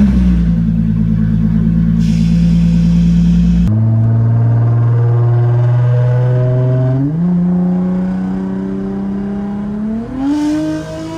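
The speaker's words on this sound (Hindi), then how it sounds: "इस टाइम गाड़ी स्टार्ट करना इतना रिस्की काम है।" Car engine at around 4 am, first a loud starting crank, then a steady idle with rising revs that climb in pitch in several stages, close and alone.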